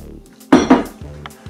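Beef in sauce being stirred in a pot for Sicilian arancini, giving two loud clanking scrapes of a utensil against the pot, with softer rattles and knocks around them.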